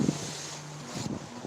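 Wind gusting across a third-floor balcony at night, a steady broadband rush with low buffeting rumble, close to the microphone and continuous without any talk.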